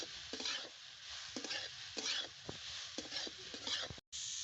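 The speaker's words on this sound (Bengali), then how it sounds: "এবারে আমি গ্রেট করা শাকালু দিয়ে দেবো নাড়িয়ে নেবো এইভাবে" Grated yam bean frying in oil with ginger in a pan, a steady sizzle broken by regular scraping strokes of a spatula stirring, with a brief pause near the end.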